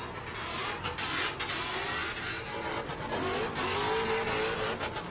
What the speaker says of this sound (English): Listen to the Mustang roar.